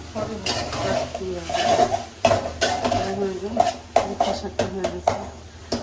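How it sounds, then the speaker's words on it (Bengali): Fish braising in a pan with tomato, stirred with a spatula: repeated scraping and clinking strokes over a soft steady sizzle, close by, with a voice talking over much of it. "মাছগুলো এভাবে কষাতে হবে"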